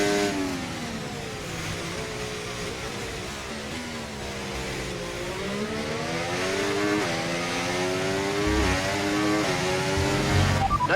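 In the F1 24 video game, a race car drives at speed at the Bahrain Grand Prix, its engine note rising and falling with each shift and corner, steady and moderately loud throughout.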